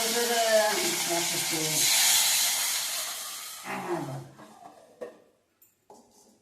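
Hot tempering oil sizzles and hisses loudly as lentils are added for a few seconds while a person talks, then the sizzle fades, leaving a few clicks and near silence.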